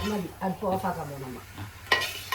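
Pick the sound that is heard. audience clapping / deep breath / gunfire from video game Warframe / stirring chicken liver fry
stirring chicken liver fry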